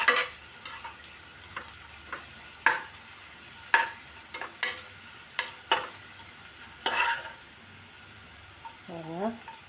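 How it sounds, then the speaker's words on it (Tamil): Onions fry in a pan while a spoon stirs them toward golden, giving a soft sizzle with about a dozen sharp scrapes and clacks at irregular intervals. "பாருங்க, நல்ல வெங்காயம் வந்து நல்ல பொன்னிறமாக வதங்கணும்."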